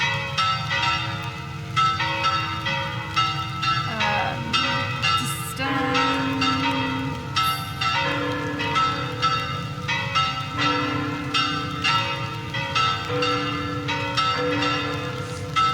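Cathedral warning bells ring steadily and loudly for the whole stretch, their overlapping tolls sustained within a tense, dense soundscape.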